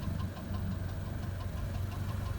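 A car at a Copart salvage yard in Tallahassee runs with an abnormal engine knock, a steady close throbbing idle with faint repeated ticks, and no voices.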